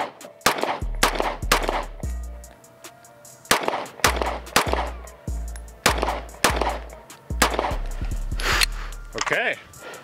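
Pistol gunfire during a timed shooting training drill: rapid loud shots in several quick bursts, about twenty in all, with short pauses between strings and a voice briefly heard near the end.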